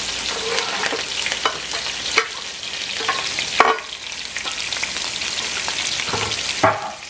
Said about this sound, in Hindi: तो अब मैं इसमें प्याज डाल दूँगी और इसको थोड़ा मीडियम हीट पे करूँगी